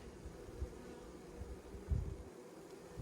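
A low, steady insect buzz from honeybees in a hive during fall, fairly faint and continuous, with a few soft thumps underneath.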